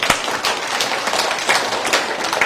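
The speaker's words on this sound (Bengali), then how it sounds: "আমরা সবাই এখানে সবাই জোরে হাততালি দেন সবাই" An audience claps loudly together, with dense, continuous applause and sharp individual claps standing out, close and sustained throughout.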